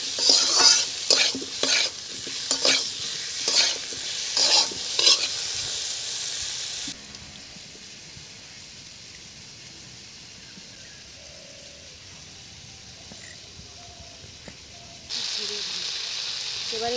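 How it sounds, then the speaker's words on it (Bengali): Fried potatoes with turmeric, salt, chili powder and chopped tomato sizzling and being stirred in a pan, loud crackling and scraping in bursts at first, then a quieter steady hiss before the sizzle swells again. "আলু ভাজা ভাজা হয়ে গেছে, এখন দিয়ে দিচ্ছি হলুদ, স্বাদ মতো নুন, লঙ্কার গুঁড়ো, কুচে রাখা টমেটো।"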